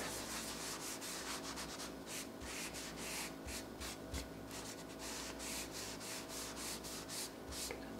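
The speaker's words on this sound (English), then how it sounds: "I'm just gonna put a little bit of this on here. A little bit goes a long way with hemp oil. And I'm just gonna rub it on the bottom here." A lint-free cloth rubs hemp oil into a wooden surface with steady back-and-forth strokes, a soft close scratchy swishing in a regular rhythm, faint overall and with no talking.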